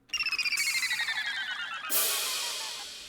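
A riser-like transition effect in a futuristic Chief Keef-style beat: two high bright tones slide slowly downward over a fluttering pulse, then a loud noisy wash bursts in and fades, with no voices.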